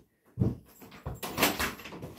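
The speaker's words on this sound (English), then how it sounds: "Knocks on the door." An indoor door is opened after a knock, giving a soft thud followed by a rustling, creaking swing and some shuffling nearby. The sounds are fairly quiet and no one speaks.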